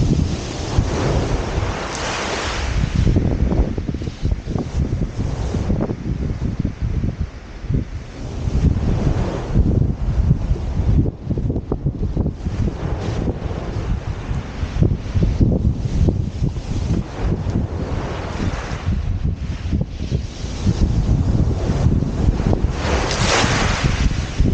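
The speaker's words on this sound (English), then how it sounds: "Waves are getting larger, so I'm having to move my tripod back a little bit." Surf rolling onto the beach at Felixstowe, with waves breaking continuously and loudly over steady wind rumble on the microphone, and no voices present.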